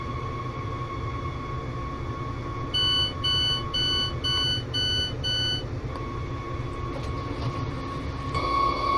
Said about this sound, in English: I don't know what that alarm is